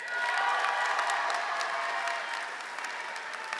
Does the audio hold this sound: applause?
yes